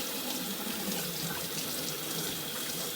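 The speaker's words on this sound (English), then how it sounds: "I'm going to wash off my hands and get rid of this cream." Tap water runs steadily into a sink as hands are rinsed clean of whipped cream, a continuous close hiss and splash with no talking over it.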